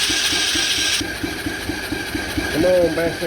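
A rebuilt Coolster 125cc ATV engine cranks and catches on partial choke, sputtering into a loud, rough, pulsing idle close by, while someone speaks encouragement over it.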